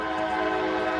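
A passing truck sounds its horn in one loud, steady, sustained blast lasting about a second, heard alone without talk.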